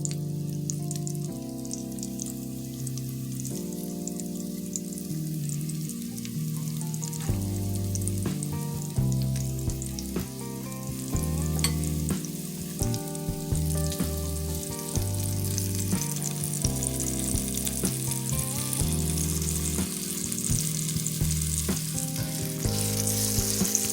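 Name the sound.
stew meat searing in a pot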